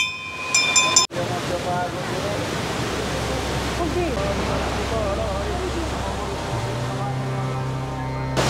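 Water stream flowing over stone Shiva lingas at Panchalingeswar, a steady broadband rushing wash that runs continuously, close and fairly loud, with a brief sharp knock near the start and a low hum entering toward the end.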